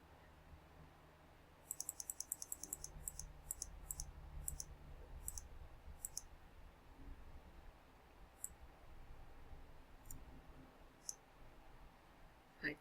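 Computer mouse clicked during drag-and-drop work on a map, a quick run of close crisp clicks followed by sparser single clicks, faint over quiet room noise.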